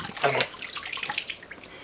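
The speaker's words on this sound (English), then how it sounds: "There's still water pouring out of the ASA." Water drains out of a Tippmann paintball marker held upside down, a short splashing gush followed by lighter trickling and spattering.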